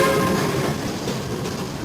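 A train passes nearby with a steady, loud low rumble and rolling rail noise that holds for the whole two seconds, easing slightly toward the end.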